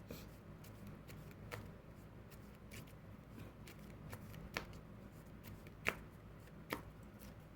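Soft riffling and a few sharp card snaps as a Yu-Gi-Oh deck is shuffled, quiet and close, over a low steady background hum with no talking.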